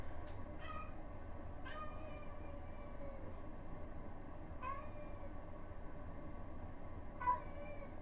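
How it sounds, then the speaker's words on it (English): A pet cat meows several times during a chess.com streaming session, short rising meows spaced a few seconds apart, faint and set against a steady background hum. "Hello, that's my cat."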